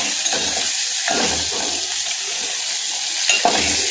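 Small fish are stirred in a pan for a fish pulusu curry with chillies and onion: a steady sizzle broken by several scraping strokes of a spoon against the pan, close and fairly loud.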